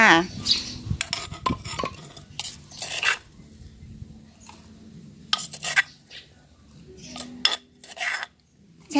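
Pounded plant ingredients are spooned out of a mortar into water to soak for a garden pest spray, giving clinking, scraping bursts of metal against pottery in uneven clusters, close up, with quiet gaps between.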